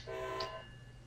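A train horn sounds in the video game Train Sim World NEC New York as a single short, steady harmonic blast that fades quickly over a low background hum.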